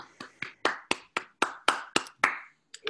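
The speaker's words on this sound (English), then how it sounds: "let's give you a big round of applause" Applause for a soprano and pianist after a live opera performance at home: about ten crisp, evenly spaced claps, close and sparse, as from one or two people.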